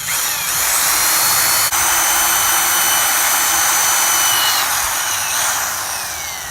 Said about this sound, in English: it does take some time to drill through